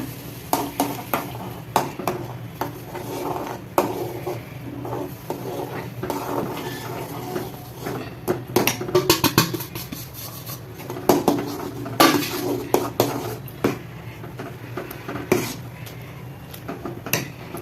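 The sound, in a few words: stirring flour into hot water in pot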